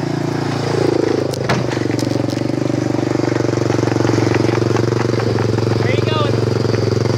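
A four-wheeler ATV engine runs steadily and loudly close by, a continuous motor drone with a rough, rumbling texture throughout, joined by a brief clatter early on and a few distant voices.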